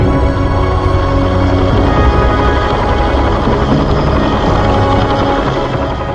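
A military helicopter of the 1st Air Cavalry Division in the Vietnam War flies close by, its loud, steady rotor and engine roar filling the whole stretch without pause.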